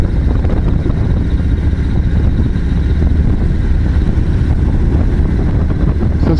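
A Harley-Davidson motorcycle cruises in fourth gear at about 60 km/h on a bypass road, its engine a loud steady low rumble mixed with heavy wind buffeting the microphone, no pauses.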